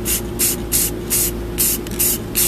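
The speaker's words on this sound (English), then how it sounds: "when you're doing this with a spray can" A spray can lays gloss clear coat on General Lee car parts in a run of about seven loud, even hissing bursts, each roughly a quarter second long with brief gaps between them, close to the microphone and with no talking.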